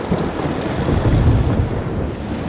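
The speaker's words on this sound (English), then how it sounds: "Watching the angry storm seemed very familiar." A thunderstorm rumbles with heavy rain and wind, a dense continuous roar with a deep thunder swell building in the middle, loud and close.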